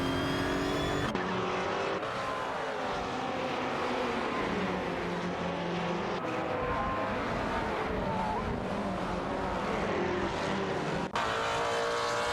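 Race cars in an AI racing video game, a loud continuous engine roar with rising and falling pitch as the cars shift and accelerate, cut by a few abrupt jumps in the sound.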